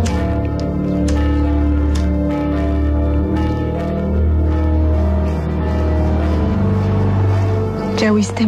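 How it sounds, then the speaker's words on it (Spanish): Church bells ring steadily and loudly with a rich sustained tone, layered under constant background noise throughout. "Son las campanas de la iglesia."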